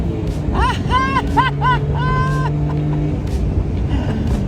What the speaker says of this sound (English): How can you not enjoy driving this car?